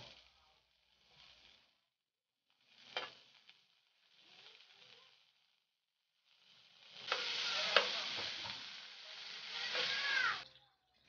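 Butter hitting a pan, with short sizzling bursts that give way to a louder, sustained sizzle in the last few seconds, close and with no talking.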